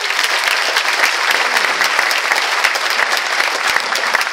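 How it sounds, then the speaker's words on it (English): A theatre audience at a documentary film premiere gives a big round of applause, dense and loud clapping sustained throughout with no talking over it. "we have a huge round of applause"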